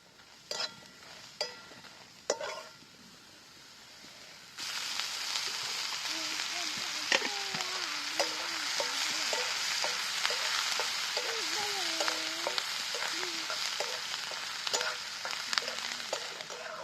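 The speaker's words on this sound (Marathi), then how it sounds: "आधी काय करते कांदा तळून घेणार आहे" Onion frying in a pan, quiet at first with a few utensil clicks, then a loud steady sizzle that starts suddenly and keeps going, with scraping and tapping from stirring along the way.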